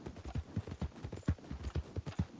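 A horse ridden in the video game Red Dead Redemption 2 clip-clops in a steady, rhythmic run of hoofbeats at moderate volume, with no voices.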